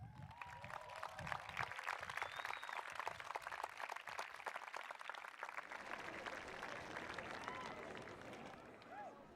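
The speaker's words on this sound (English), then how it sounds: "Graduates, please turn to the stands and give a round of applause to your families." Scattered applause and crowd noise fill the stands at a 2017 high school commencement ceremony, steady and moderately loud throughout, with speech and voices mixed in over the clapping.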